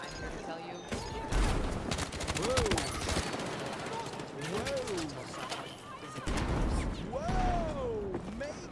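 Bursts of video game gunfire rattle through much of the stretch, with rapid shots under steady talking and a swooping tone now and then.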